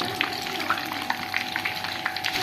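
Ground onion masala frying in ghee left over from frying chicken for chicken korma, a continuous close sizzle with small crackles and stirring scrapes, no talk.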